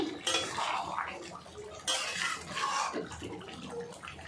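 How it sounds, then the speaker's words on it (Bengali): Eggplant, potato and rohu fish curry with coriander leaves stirred in a pot: a metal spoon scrapes and clinks against the pot in two bursts of bright, close scraping amid a soft simmer, with no talking. "আবারও হালকা নাড়াচাড়া করে নেব"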